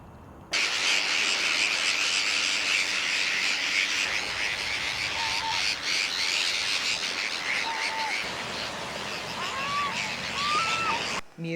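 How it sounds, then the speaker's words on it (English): Several thin mewing calls from a mew gull, also called the short-billed gull, rise faintly and at a distance through a dense wash of insect and bird chorus, with more calls clustered toward the end. "Mew gull. Now called the short-billed gull."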